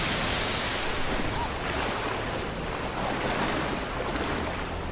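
Rushing water and waves in the video game Tomb Raider 2013, a loud, continuous broadband wash with no pauses, steady throughout and close, with no voices over it.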